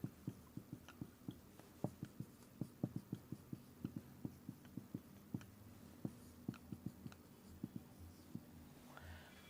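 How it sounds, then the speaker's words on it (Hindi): Marker or chalk writing a question on a classroom board in a reasoning lesson: a steady series of short, rapid tapping strokes over a low hum, fairly faint, with no speech. "फिर से यहाँ पे एक बार लिख देता हूँ।"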